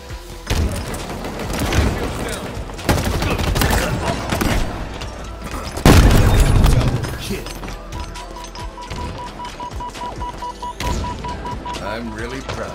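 Rocket explosions in a shooter game, a run of loud booming blasts and crashes, one especially heavy mid-way, mixed with gunfire while a player talks excitedly over the action.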